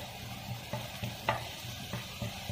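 Curry leaves and seasoning frying in hot oil in a pan while making upma, a steady close sizzle with soft periodic stirring scrapes and clinks, no voices.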